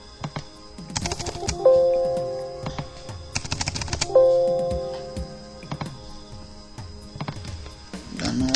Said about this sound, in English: I can just type manually.